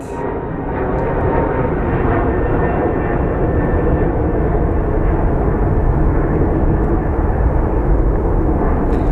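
An airplane flies low over a bridge near Sky Harbor airport, its engines a loud, continuous roar that holds steady throughout.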